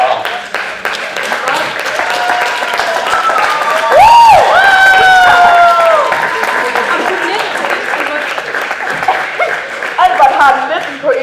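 A studio audience at a Danish game show claps in steady applause, mixed with chuckles and lively talk from the people on stage.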